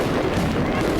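New Year fireworks in Lima, Peru crackle and boom in a dense, continuous barrage of loud overlapping bursts.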